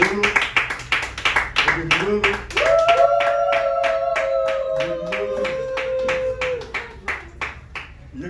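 A group welcomes a new member with rhythmic clapping at a formal gathering, the claps steady and close while voices chant and sing over them.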